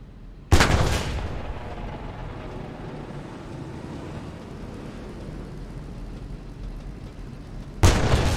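Tank cannon fire in the Post Scriptum WW2 game, two sharp loud blasts several seconds apart, each followed by a rumbling tail over steady engine and ambient noise.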